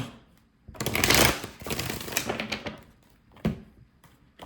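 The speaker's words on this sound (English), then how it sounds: "Let me just shuffle this." A quick burst of tarot cards being shuffled, a riffling flutter up close, followed by lighter taps and a final snap as the deck settles.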